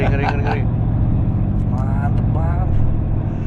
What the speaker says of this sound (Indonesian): Kapan lagi coba podcast orang disuruh nyobain mobil sport?